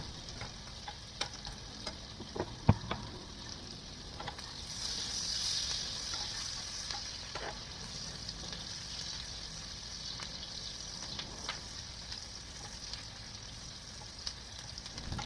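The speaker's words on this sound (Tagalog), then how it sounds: "pag melted na siya guys, ilagay na natin yung bawang at sibuyas. Antayin lang natin siya ng mag-brown." Garlic and onions fry in melted butter in a pan, a steady close sizzle broken by scraping stirs and a few sharp utensil clicks, with a brief louder hiss partway through.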